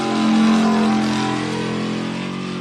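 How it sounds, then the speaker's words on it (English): A 4WP desert off-road race vehicle's engine roars loud and close at a qualifying run, a deep throaty rumble swelling near the start then settling into a sustained drone, with no voices over it. "his engine a little throatier, a little healthier, isn't it? Dang, that sounded burly to me."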